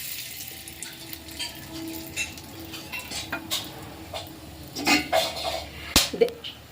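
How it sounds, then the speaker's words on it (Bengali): Whole garam masala crackling in hot oil for a Bengali doi katla tempering, a soft sizzle broken by clinks of a spoon on the pan and a few sharp pops. "ফোড়নে দিয়ে দেব গোটা গরম মশলা"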